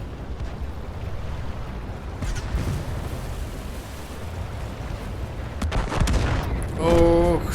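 Rumbling tank gunfire and explosions roll through a noisy, cluttered video game battle soundscape set in Operation Overlord, with a brief electronic tone near the end.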